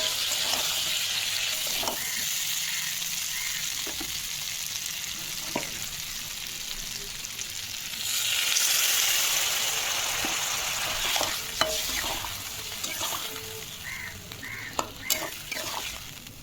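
Ginger, cumin and chili paste frying in a pan, with a steady sizzle that swells when water is added and then continues, along with occasional stirring clinks. No one speaks.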